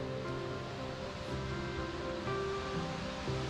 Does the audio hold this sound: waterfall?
yes